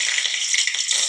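Bay leaves dropped into plenty of hot oil for goat curry, giving a steady, loud, bright sizzle with no voices.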